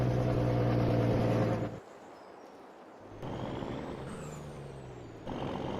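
Truck in the Farming Simulator 22 video game shifts gears: a loud, steady engine drone cuts out abruptly, a hiss and lull follow, then the engine returns at a new pitch, with a faint rising whine overhead.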